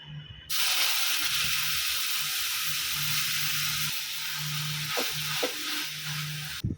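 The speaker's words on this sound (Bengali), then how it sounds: "হয়ে গেছে পেঁয়াজ রসুনটা ভাজা" A paste of onion, ginger and garlic hits hot oil with whole garam masala, bay leaf and a little sugar, bursting into a loud steady sizzle that carries on, with faint stirring knocks, before cutting off at the end.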